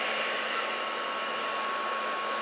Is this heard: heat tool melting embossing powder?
yes